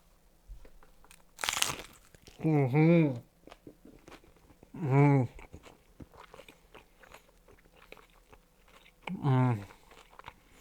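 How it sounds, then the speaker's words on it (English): Crunchy Vietnamese food is bitten and chewed close to the mic: one sharp, loud crisp crunch, then quieter chewing clicks with three drawn-out, hummed vocal murmurs of enjoyment in between. "There is that crunch I wanted to give you."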